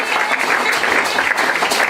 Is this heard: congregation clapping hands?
yes